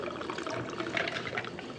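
Tequila poured from a bottle into a cocktail glass gives a steady, close liquid stream and trickle lasting about two seconds, with no talking.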